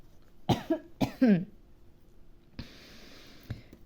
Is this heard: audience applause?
no